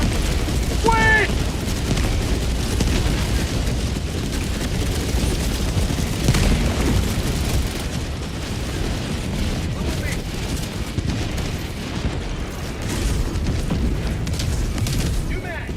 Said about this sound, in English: Requesting orbital. Orbital inbound.